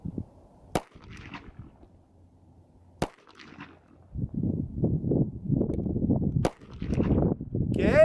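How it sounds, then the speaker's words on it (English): SCCY CPX-2 pistol fired at 15 feet on a shooting range: three sharp, loud gunshots spaced a few seconds apart, the later ones with someone talking between them. "I'm going to be shooting right over the camera, so if the camera goes out, you know something went very wrong"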